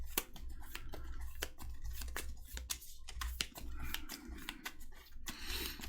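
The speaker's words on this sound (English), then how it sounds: "Let's do some shuffling." Rapid riffling and snapping of cards, a run of sharp flicks and soft rustles repeating over a low background hum.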